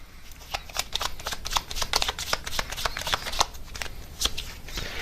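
A deck of tarot advice cards is shuffled by hand, producing a continuous close flurry of papery flicks and snaps at moderate volume, with no voices over it.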